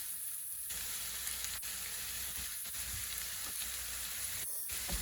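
Stuffing ingredients cooking in a pot on a stovetop, a constant close sizzle and crackle of frying with a few brief clicks and stirring sounds, steady throughout with no voices.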